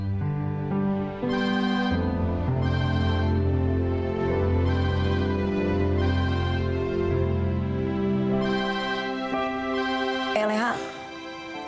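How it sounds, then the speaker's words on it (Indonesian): A telephone rings over and over in an indoor domestic scene, a steady repeating electronic ring that stays loud and continuous, with background music throughout and a brief noisy burst near the end. "tuh telepon bunyi terus,"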